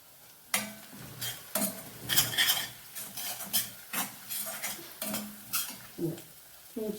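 Cashew nuts fry in a pan as a spoon stirs them, a rhythmic series of close scraping strokes and clinks about every half second over a soft sizzle.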